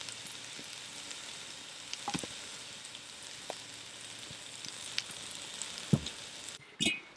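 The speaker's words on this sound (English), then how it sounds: "we want to saute that up in that skillet or that pot" Salt pork sizzles and fries in a skillet over a campfire, a quiet steady crackle with a few soft clinks and one louder knock near the end.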